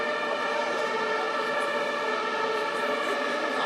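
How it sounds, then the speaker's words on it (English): Ambulance sirens passing by near a Berlin press conference, a loud continuous wail with rich harmonics ringing steadily from start to finish, with no speech over it. "I was talking about the 25 ambulances flying by"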